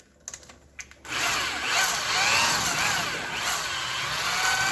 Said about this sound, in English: And I'm going to ream it a few times.